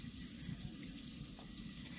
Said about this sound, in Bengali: এগুলো সব ধুয়ে নেব, টমেটো ধুয়ে নেব, ধনে পাতাগুলো ধুয়ে নেব